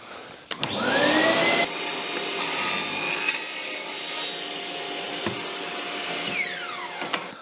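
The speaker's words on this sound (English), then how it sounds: "It's actually too big for the miter saw, so the table saw it will have to be." A table saw spins up with a rising whine and cuts a wooden board too big for a miter saw, a loud steady roar with a dust-collector hiss, then winds down near the end; nobody speaks.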